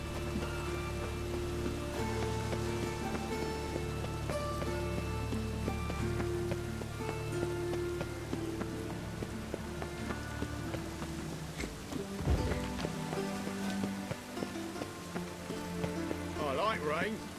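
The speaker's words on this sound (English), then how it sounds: "The city weeps neath its Oh, veil hi. of rain." Rain falling in The Witcher 3, a soft steady patter on surfaces running throughout, quiet and continuous beneath faint game ambience and music.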